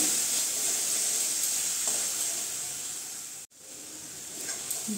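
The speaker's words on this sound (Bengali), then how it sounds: "যে দইটা যে আমি মিক্স করে রেখেছি মশলার সঙ্গে, সেটা আমি দিয়ে দিচ্ছি এখন। সেটাও আমি এই মশলার সঙ্গে ভালো করে মিশিয়ে নেব।" Yogurt mixed with spice paste stirs in a hot frying pan while cooking Bengali egg do pyaza, giving a strong, steady hiss and sizzle with a brief break near the end.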